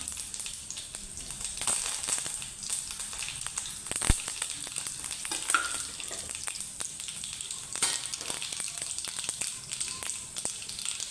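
Mustard seeds and curry leaves crackle and sizzle in hot oil, a close, continuous frying hiss with sharp pops and spits scattered throughout, with no talk over it.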